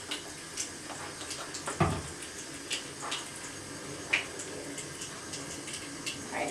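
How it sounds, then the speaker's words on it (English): A makeup brush is rinsed under a running tap, giving a soft, steady trickle and splash of water with a few small drips and knocks, fairly quiet and close. "I'm going to rinse this one off and kind of get some new soap and clean it again"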